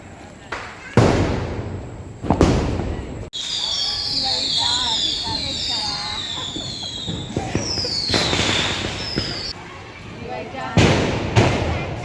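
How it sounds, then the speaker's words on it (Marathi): Diwali firecrackers burst outdoors in sharp loud bangs, followed by crackling, whistling streaks and sizzling sparks, with a few more close blasts near the end. "मस्त तिथेसुद्धा आम्ही फटाके फोडून एन्जॉय केला"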